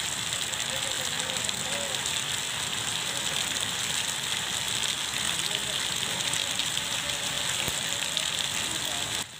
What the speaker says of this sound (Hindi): वहीं इस ओलावृष्टि के बाद जमकर बारिश भी हुई।